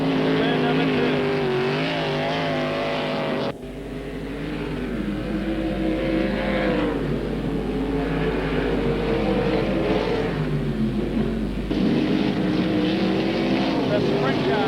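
Sprint car engines roar at Parramatta City Raceway during night one of the Sprintcar Gold Cup, a loud sustained howl that shifts as cars pass, with a commentator talking over it.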